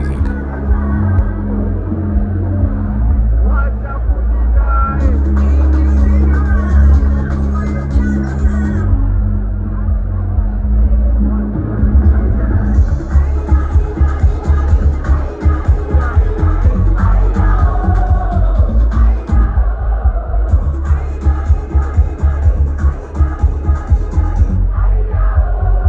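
Large crowd at the Kunye Festival in Nairobi during rain, a dense steady murmur with scattered yells and whoops over loud thumping Afro house music.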